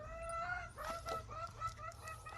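Chickens kept at a rural home cluck repeatedly in short, overlapping calls, close and fairly busy, over a steady low background hum with no talk.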